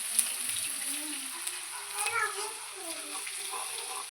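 Ginger sizzles steadily in hot oil in a pan while Kerala-style mango pickle is made, a close, continuous frying crackle with a person talking over it until it cuts off at the end.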